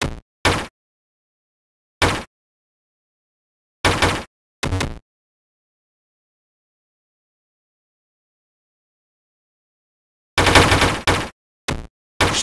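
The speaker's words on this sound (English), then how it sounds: "Stop hitting the bricks!" Bricks being hit in a video game, sharp isolated impact bursts, some single and some in quick clusters, separated by silent gaps and loud and close with no talk.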